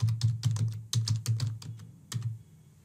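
Quick bursts of close, crisp keystrokes on a computer keyboard as a password is entered, irregular clusters of clicks with short pauses, no talking.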